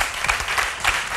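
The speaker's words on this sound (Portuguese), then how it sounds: "Uma salva de palmas." A live audience applauds at a gospel music show, dense clapping swelling in waves over a short stretch, loud and close with a cheer mixed in.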